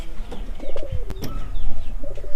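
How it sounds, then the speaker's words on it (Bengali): A white pigeon coos in soft, throaty bursts close by, with a few brief chirps and rustling movements between the calls. "আমরা একটা সাদা কবুতর নিয়েছি"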